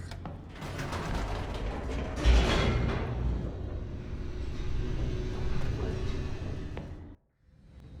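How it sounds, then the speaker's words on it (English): Elevator descending in The Stanley Parable: Ultra Deluxe, a continuous mechanical rumble with rattling gears and creaks that runs for several seconds, then stops abruptly. "The elevator raced downward"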